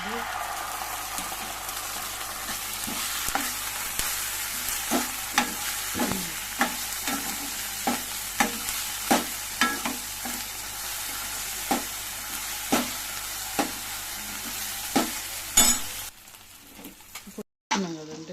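A spoon stirs curry paste and turmeric in a sizzling pan for a pea and potato kurma, a soft frying hiss marked by regular scraping strokes about once a second that stop near the end.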